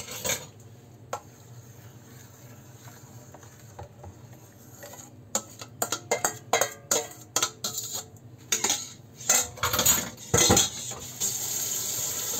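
Utensils clink and scrape against a bowl while food is mixed, with irregular bursts of tapping and stirring that grow busier and louder toward the end, close up and with no talking.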